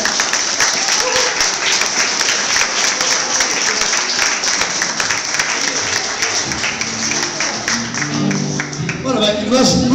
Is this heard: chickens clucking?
no